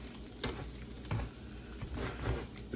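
Liver sautéing briefly in a pot for smothered liver and onions, a low continuous sizzle with occasional stirring bumps, close and quiet, no talking.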